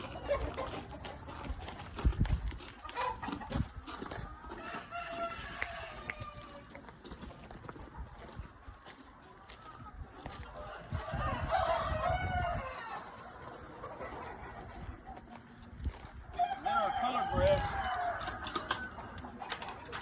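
Colored Bresse chickens in a farm pen cluck and crow, with rooster calls rising out of a busy, noisy yard background that is punctuated by thumps and shuffling.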